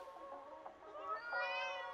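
A pet cat gives a drawn-out, wavering meow of about two seconds, near and fairly quiet, with no talk over it.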